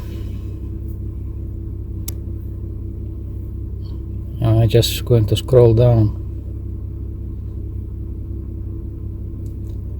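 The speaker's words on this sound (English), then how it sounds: "My car is running right now" A car engine idles steadily with a low, even rumble throughout, while someone speaks briefly over it midway.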